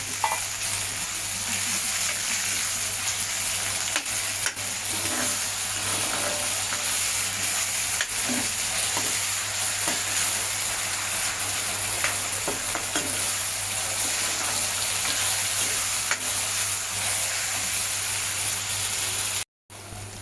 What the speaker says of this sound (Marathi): कांद्याबरोबर टोमॅटो पण परतला जाईल।